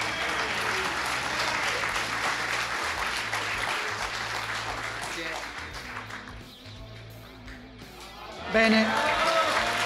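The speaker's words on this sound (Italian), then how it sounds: "Li ho chiamati uno alla volta per sdoppiare l'applauso" Audience applause during an Italian motoring show gathering as people are called up one by one, clapping under talk that thins out before a louder burst of clapping near the end; a voice speaks briefly.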